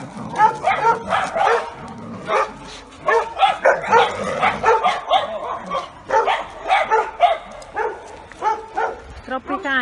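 Bull terriers bark and yip in quick repeated bursts during training, close and loud, with people talking over them throughout.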